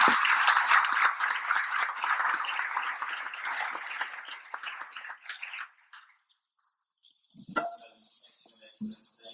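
Applause from a conference audience honoring the panelists of a panel on the future of manufacturing fills the first six seconds, steady and dense, then stops; a brief silence follows before faint talk and stray noises.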